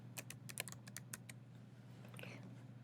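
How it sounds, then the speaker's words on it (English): Fast, light clicking of computer keyboard keys, a quick burst of keystrokes followed by a few scattered taps, close but quiet over a steady low hum. "type the word photo credits"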